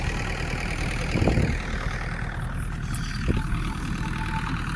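A YuMZ 8280 tractor engine runs steadily and loud while cultivating a field with a SUPN-8 implement, giving a continuous mid-low drone with slight load surges.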